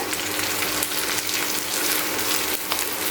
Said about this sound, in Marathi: आता आपण ह्या कढीपत्त्याची पानं घालतोय मिक्स करूया